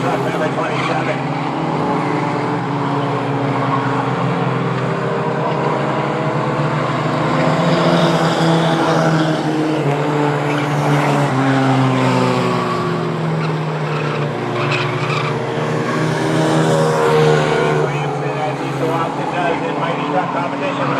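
Trucks race around a speedway in a Mighty Trucks feature, their engines giving a steady, loud drone throughout while an announcer talks over the noise.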